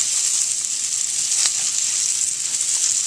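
Carrots sizzle in a pan with chicken drippings over medium heat, a loud, steady hiss that stays even throughout, with no voices.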